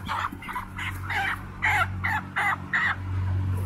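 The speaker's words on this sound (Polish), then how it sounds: "Możemy nawet na przykład wziąć jakiegoś kurczaka." A chicken being picked up and handled on a poultry farm gives about eight short, agitated squawks in a steady series, close and clear over a constant low mechanical hum.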